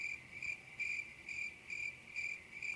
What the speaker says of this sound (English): It is straight crickets